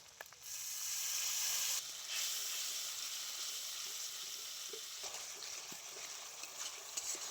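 A ground paste of dried red chilli, whole cumin and whole coriander sizzles and hisses steadily in a hot pan after a little water is added, with an occasional soft stir.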